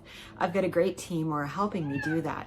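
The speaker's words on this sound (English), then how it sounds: "sometimes you might hear a cat in the background because I have a kitten who's just 9 months old" A nine-month-old kitten meows repeatedly in the background while someone talks, a few drawn-out, wavering meows mixed in under and between her words.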